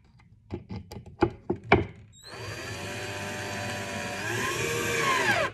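A Ryobi cordless power tool starts after a few handling knocks and then runs steadily and loudly, its high motor whine rising slightly toward the end, with no talk.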